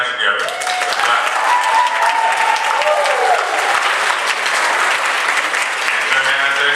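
An audience at a school spring concert breaks into loud, sustained applause, dense clapping with crowd cheers mixed in, continuing steadily throughout.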